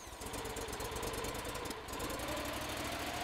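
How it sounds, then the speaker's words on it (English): A small engine on a blower runs with a steady, rough idle and a rapid knocking pulse, fairly close and alone, with a brief dip in the middle before the running resumes. "Activate the choke and turn the key to start the engine."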